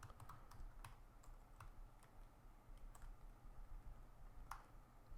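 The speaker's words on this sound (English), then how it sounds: "I'm going to type in TaskCat example." Fast, light typing on a computer keyboard, a steady stream of soft close clicks and taps over a quiet background with no voices.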